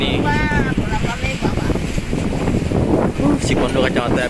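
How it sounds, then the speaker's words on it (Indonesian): A strong windstorm with high waves hits a coastal hut, making loud continuous wind buffeting and gusty rumble while a voice talks over it throughout. "dari gelombang angin yang tinggi ini"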